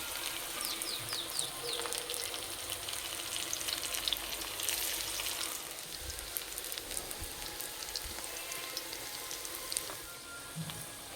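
Onion pakoras made with semolina frying in oil in a wok over low heat give a steady, fine crackling sizzle with scattered small pops, moderately quiet and continuous, no voices.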